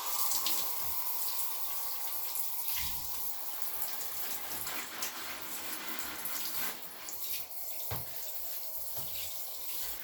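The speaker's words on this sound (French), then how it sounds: "je douche le dessus des feuilles" A hose sprays a steady stream of lukewarm water over the leaves of a variegated Monstera Albo Borsigiana plant, a continuous soft hiss with slight splashing shifts as the spray moves, faint and close.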